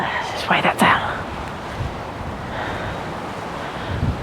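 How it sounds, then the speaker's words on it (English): Strong wind gusting through a vegetable garden with bolted lettuce, buffeting the microphone in rough bursts near the start and then settling into a steady roar. "Gosh, it really is windy."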